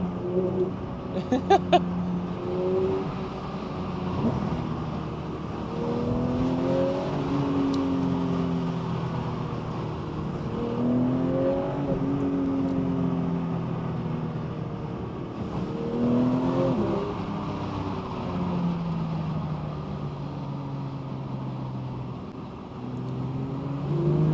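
A Porsche 992 GT3 Touring with its rear-mounted engine drones through a night drive, the engine note rising and falling in repeated rev swells, steady and prominent inside the cabin.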